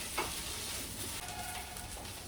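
A ladle mashes potato into a simmering masala curry for masala dosa, giving a steady, close sizzle and soft stirring scrape that runs continuously with no talking.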